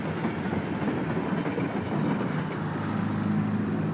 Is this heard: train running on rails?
yes